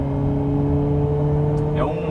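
Ford Mondeo 2006 engine revving steadily under hard acceleration, a loud continuous mid-pitched drone with strong harmonics, then a quick pitch drop at a gear change near the end.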